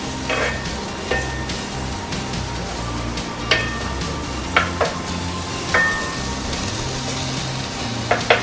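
Chinese sausage renders its fat in a pan over low heat, giving a steady soft sizzle with occasional sharper pops and spatters throughout.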